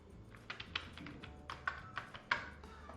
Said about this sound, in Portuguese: Agora eu vou digitar somente a senha.